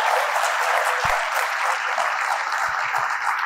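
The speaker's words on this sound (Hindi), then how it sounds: "भाई तालियों से स्वागत करो" Loud, continuous applause from a seminar audience greeting people called onto the stage, a thick, even wash of clapping with a couple of low thumps and no speech.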